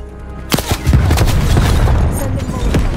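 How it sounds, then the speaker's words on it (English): Frag grenade blast in Call of Duty: Black Ops Cold War on the Nuketown map, a loud boom at about half a second followed by crackling gunfire and rumbling game noise throughout. "Throwing frag grenade."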